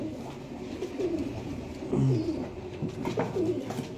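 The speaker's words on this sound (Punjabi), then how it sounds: "ਇਹ ਤੇ ਬੜੀ ਪੁਰਾਣੀ ਨਸਲ ਦਾ ਕਬੂਤਰ ਹੈ ਬਟੇਰਾ ਕਬੂਤਰ ਹੈ" Cooing of Batera pigeons, an old breed, with soft repeated throaty coos and a louder burst near the middle, close by over a steady low background murmur.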